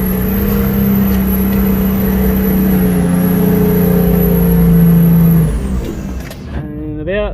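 A Nissan GQ Patrol 4x4 climbs a sand hill in first gear at near idle, its engine droning loud and steady and close up before the note drops away and shifts near the end.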